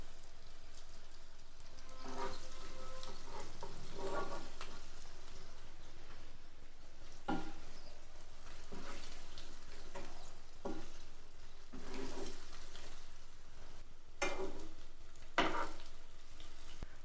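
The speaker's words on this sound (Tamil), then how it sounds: "இது அப்படியே எல்லாத்தையுமே பிரட்டி போட்டுருவோம்." Eggs frying in a pan and being turned over for an egg gravy, a soft sizzle running throughout with several louder scraping stirs and flips spaced every couple of seconds.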